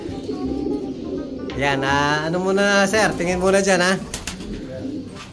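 Pigeons coo up close in repeated throaty, wavering calls while someone talks over them.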